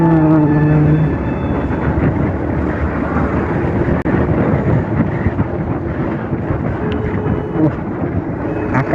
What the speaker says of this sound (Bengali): এখানে চারপাশে খোলা এবং বাতাসের তীব্রতা প্রচুর।